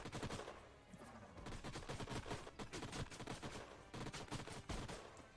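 Rapid turret fire crackles in Age of Wonders Planetfall, dense bursts of gunshots in quick rhythmic volleys, fairly faint overall but continuous across the clip with brief lulls between salvos.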